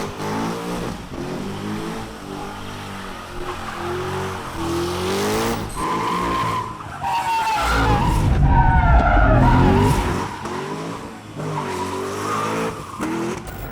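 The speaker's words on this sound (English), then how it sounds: "We did some burnouts." A Corvette C6 Z06 does burnouts, its engine revving hard as the tires squeal and skid in long, loud screeching stretches that peak midway, with no voices over it.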